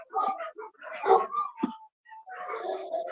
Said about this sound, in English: If you're a coyote, would you want to come in the yard with dogs barking like this?